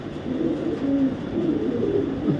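A female racing pigeon coos in low, repeated throaty murmurs, close and fairly steady, with soft rolling phrases over a faint background hum.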